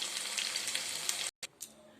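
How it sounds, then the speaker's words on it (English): Mutton pieces with garam masala sizzle and crackle in hot oil in a frying pan, a close, busy frying hiss that briefly cuts out and resumes. "After frying the mutton pieces along with the garam masala powders for 5 minutes"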